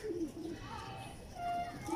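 Old teddy pigeons, a short-tailed, short-necked breed, cooing: soft, low, repeated coos, faint and close, against a quiet background with no talk.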